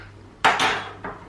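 Ingredients for a honey sesame sauce are stirred in a bowl, giving a few short clinks and scrapes of a utensil against the dish, close and distinct, with no talking.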